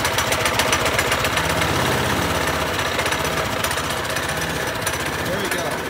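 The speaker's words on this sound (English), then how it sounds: "not wanting to start very good today. I have to turn the choke on there." Small go-kart engine running with the choke on, a loud, rough, rapid chattering drone held steady throughout, close to the listener.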